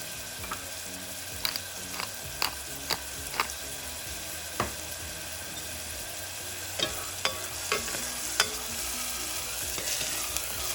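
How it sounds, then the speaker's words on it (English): Onions sizzle steadily in hot oil in a pan, with a continuous bright crackle broken by sharp clinks and scrapes of a utensil stirring them at irregular intervals. "As soon as the oil is up to temperature, you can drop in your onions"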